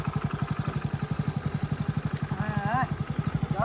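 A motorcycle engine chugs close by in rough, rapid, evenly spaced thumps, with a brief voice cutting in near the end.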